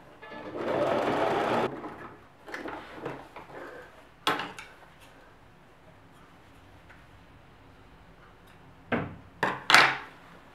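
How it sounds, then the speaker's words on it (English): A sewing machine stitches the bottom seam of leggings in short bursts: a steady whirring run at the start, then brief clattering spurts and handling knocks, close and without talk. "I sewn the top seam and I am continuing with the bottom seam."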